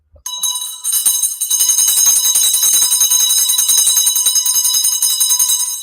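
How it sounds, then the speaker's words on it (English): A ringing bell effect marks a super chat donation on a live stream, its steady bright metallic tone sustained loudly and alone for several seconds after a sharp onset. "gets the first bell of the day"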